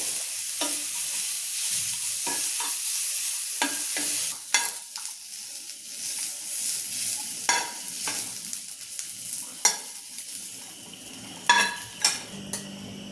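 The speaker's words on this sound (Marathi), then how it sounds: "कोथिंबीर, लसूण, आलं ते बी थोडं भाजून घेते" Coriander, garlic and ginger roasting in a pan for misal pav, a soft sizzle punctuated by a dozen or so sharp scrapes and clinks of a utensil against the pan, with no talking.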